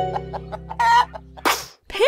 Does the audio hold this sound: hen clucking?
yes